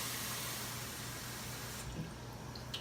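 Water runs from a kitchen sink tap into a jar of pickle brine, a soft continuous rush that cuts off after about two seconds, followed by a few light clinks.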